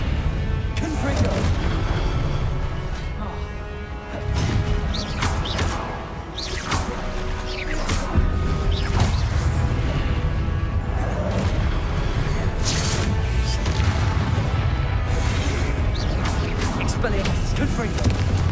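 Repeated blasting spell impacts from Confringo in Hogwarts Legacy, dense booms and crashes layered with whooshes over a continuous game soundtrack, loud and sustained throughout.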